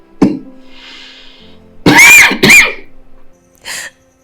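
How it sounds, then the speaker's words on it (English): A couple of harsh, throaty coughs close up, preceded by a short rough sound and followed by a fainter breathy cough. "This cough has lasted for a while now."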